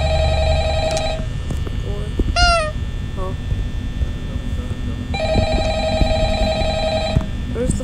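A telephone rings in the Five Nights at Freddy's horror game played on mobile, sounding in two separate bursts of repeated ringing with a pause between them, while a person talks throughout.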